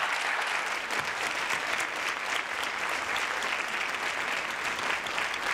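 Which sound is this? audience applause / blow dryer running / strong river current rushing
audience applause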